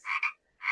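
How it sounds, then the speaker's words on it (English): A frog croaks in two quick close rasping bursts, followed by a short gap and the start of another croak. "1 frog, do a ribbit, ribbit."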